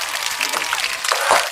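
Audience applause welcoming a guest onto a studio show, a steady wash of clapping filling the moment with a few sharper claps standing out near the end, no voices over it.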